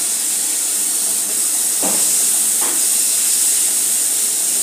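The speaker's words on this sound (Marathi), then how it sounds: "हे चांगले परतून घेऊ। लो फ्लेमवरच करायचं आहे हे आपल्याला।" Mathri dough or spices being sautéed in a pan over a low flame, giving a steady soft sizzling hiss throughout, with two brief stirring scrapes partway through.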